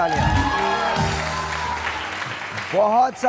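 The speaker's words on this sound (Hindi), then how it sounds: "बहुत सारी तालियां नाजिया मलिक के लिए" Clapping from a studio audience on a morning television show, sustained and fairly even, mixed with music and a host's voice speaking over it near the end.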